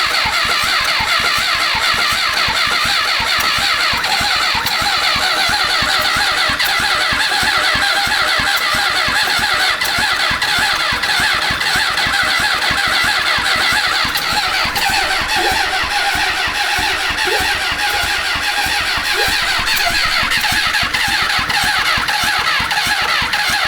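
An abandoned Honda 750cc motorcycle, with choke on, cranks and sputters loudly and continuously at close range, its engine chugging in a rapid, uneven rhythm throughout.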